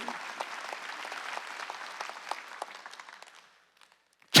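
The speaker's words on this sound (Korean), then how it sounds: "박수 치라" A church congregation applauds steadily during a Sunday worship service, then the clapping thins out and fades to near silence before a sudden loud burst at the very end.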